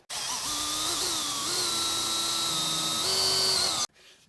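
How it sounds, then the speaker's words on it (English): A power drill bores holes through a Stratocaster-style guitar body, its motor whining steadily for nearly four seconds with a slight pitch rise near the end before cutting off abruptly, close and loud with no talking. "We've drilled some holes."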